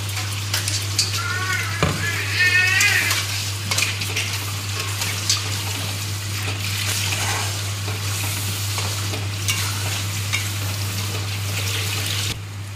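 Paste of cashews, raisins and tomato hits hot oil and spiced masala for chicken curry, giving a steady close sizzle and fry with occasional stirring scrapes over a constant low electrical hum.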